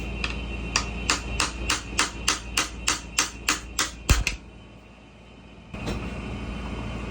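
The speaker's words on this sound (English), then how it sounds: "Literally just chiseling it out." A hammer strikes a chisel to cut a stuck inner piece out of an LS engine fan build part: about a dozen sharp, evenly spaced metallic blows, close and loud, then a short pause and quieter clatter.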